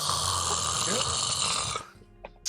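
A voice imitates hard, heavy snoring in a loud, sustained rasping drone, breaking off near the end with brief small noises.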